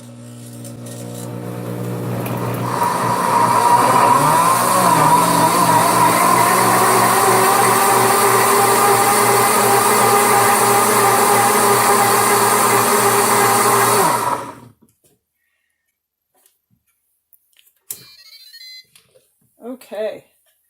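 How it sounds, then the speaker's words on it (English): A kitchen blender whirs loud and steady for about twelve seconds as it purees ginger, turmeric and cabbage into juice, then cuts off abruptly. A few faint clicks and knocks follow. "And we're going to blend it up here."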